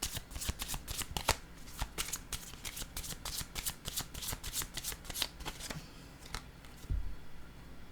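Pink sentimental cartomancy cards being shuffled: rapid, crisp riffling bursts follow one another close up, then ease off near the end, where one low thump is heard.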